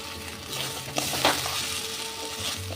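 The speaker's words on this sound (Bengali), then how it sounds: "আলু দিয়েও আমি ভালো করে কষে নেব।" Potatoes sautéing in spice paste in a pan give a soft continuous sizzle, with a couple of brief spoon scrapes and taps against the pan, close and moderate in level, no speech.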